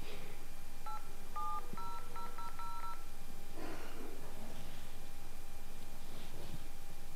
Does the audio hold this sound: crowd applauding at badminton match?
no